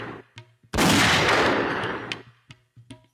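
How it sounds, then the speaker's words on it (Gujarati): A single loud gunshot bursts out, followed by a roughly second-long rumbling decay, with crowd noise and faint voices around it. "આ બંદૂક ફોડી લો."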